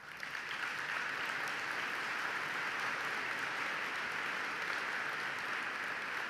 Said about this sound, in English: let's give them a heartfelt applause.